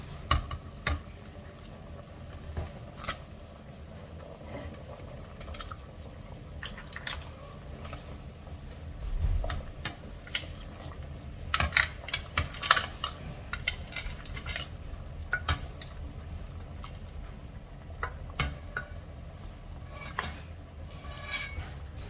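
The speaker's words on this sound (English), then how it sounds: "Final step, I'm going to add in all of my seafoods." Seafood goes into a pot of Icelandic seafood stew, with close clinks and stirring scrapes over a soft bubbling simmer and a few sharper knocks against the pot, and no voices.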